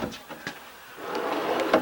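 A pull-out drawer in an RV kitchen slides open or shut, with a couple of light knocks followed by a soft rolling glide ending in a gentle bump, close and clear with no talking.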